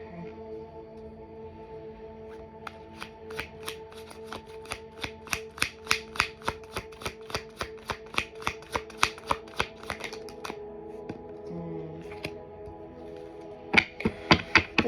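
A deck of oracle cards being shuffled by hand, a long run of crisp, rapid riffling flicks that build in rhythm and then pause before a final quick burst, close and clear with steady background tones underneath.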